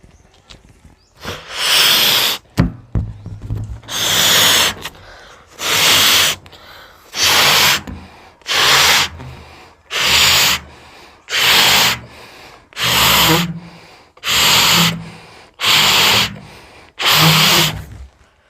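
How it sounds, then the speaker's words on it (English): A transparent bladder balloon is inflated in about a dozen loud, close bursts of rushing airy hiss, each lasting around a second, with short silent gaps between them. "let's blow the balloon"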